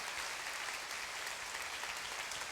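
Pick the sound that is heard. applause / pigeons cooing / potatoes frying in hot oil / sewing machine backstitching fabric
applause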